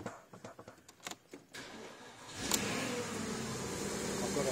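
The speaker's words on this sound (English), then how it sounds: "Start the car up." A Porsche Cayenne engine cranks and fires: a few faint clicks and rattles first, then a sharp starter whirr and catch, followed by a loud, steady running engine sound close by, with no voices.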